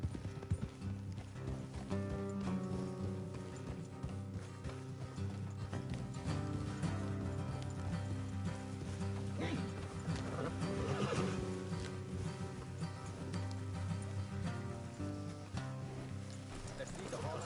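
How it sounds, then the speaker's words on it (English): Horses in Red Dead Redemption 2 whinny and neigh with clip-clopping hooves as they walk along a road, set against a steady game soundtrack with some voices. "Let's leave the horses here and go the rest on foot."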